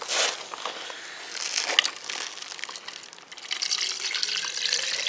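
Water is poured from a container to dilute a damp-proofing additive for masonry, a soft trickling and splashing pour heard close but fairly quiet, with some crinkling handling noise.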